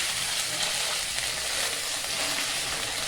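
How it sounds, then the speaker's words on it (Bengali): Ginger being sautéed in a pan for paneer bhapa gives a soft, even sizzle that stays constant and fairly quiet throughout, with no voices. "এখন খুব ভালো করে একটুখানি কষাবো, যতক্ষণ পর্যন্ত আদা কাঁচা গন্ধ না যায় ততক্ষণ পর্যন্ত আমি কষাতে থাকবো।"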